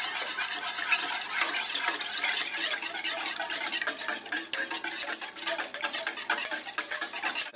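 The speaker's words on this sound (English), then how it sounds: "I said whisk these together until well mixed." Ingredients are whisked together in a bowl for ravioli dough, giving a fast, continuous metallic scraping and clicking of the whisk against the bowl. It stays close and fairly loud, with a brisk, uneven rhythm and no talking.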